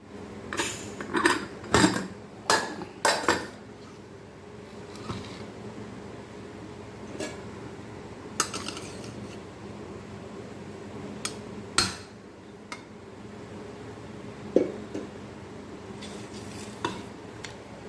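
Bitter gourd 65 pieces frying in a pan, with a cluster of loud metal stirring clanks at first, then a low steady sizzle broken by occasional scrapes and taps.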